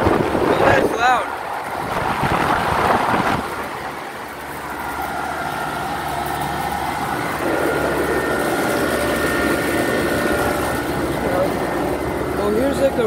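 Loud rushing air from a Ruud commercial AC unit's fan at a scrapyard, a steady broad blowing roar lasting throughout, with a person talking briefly near the start.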